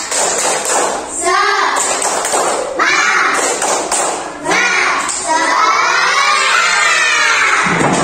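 A group chants loudly together in a lively, rhythmic clapping chant, with quick claps marking the beat in a noisy, echoing room.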